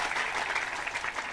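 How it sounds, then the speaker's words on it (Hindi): Audience applause during a devotional storytelling performance, a dense, steady wash of many hands clapping, fairly faint and unbroken through a short burst with no voices over it. "वाह भाई, ताली बजाओ बात जोरदार से"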